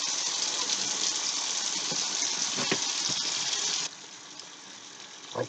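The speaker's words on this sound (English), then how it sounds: "Make sure you get that hot water going." Hot water runs hard from a kitchen tap, a loud continuous splashing rush that suddenly softens to a quieter trickle about two thirds of the way through.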